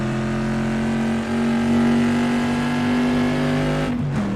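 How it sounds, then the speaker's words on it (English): A Bizzarini race car engine in a virtual Goodwood RAC TT racing video game holds a loud, steady high-rev drone with a sustained pitch, dipping briefly near the end. "Rev it all the way up to the red line."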